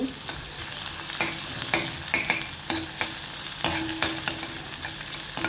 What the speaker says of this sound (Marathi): आता यात आपण कांदा घालूया कांदाही आपण छान परतून घेऊ